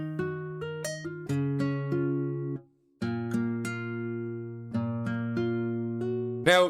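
A plucked guitar melody for a drill beat plays clean, bright notes in a steady, repeating phrase with higher top notes layered over it, broken by a brief pause before it resumes.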